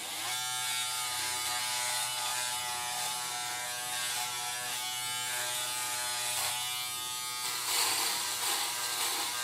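A Remington F3 foil shaver buzzes steadily at close range, a dense mechanical whir that roughens and shifts as it presses through hair, with no talking.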